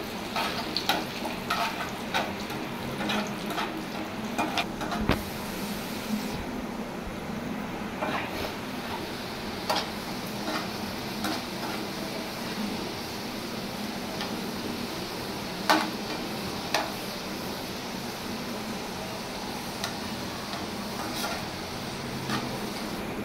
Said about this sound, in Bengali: আমার এই যে পেঁয়াজ ভাজা হয়ে গেছে, রসুন ভাজা, শুকনো মরিচটা কি সুন্দর ভাজা হয়ে গেছে